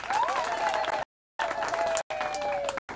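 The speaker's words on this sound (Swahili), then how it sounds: "Tuwashukuru wazazi kwa makofi na vigelegele." A church congregation claps and lets out high, wavering ululations in thanks to parents, a lively burst broken by brief gaps.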